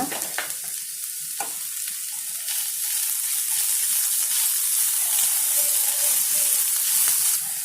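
Capsicum sautés in a hot pan for bread upma, filling the space with a steady, close sizzle and hiss that grows slightly louder partway through, with a few scraping stirs early on and no voices.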